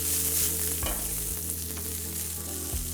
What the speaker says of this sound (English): So our chicken wings are almost cooked through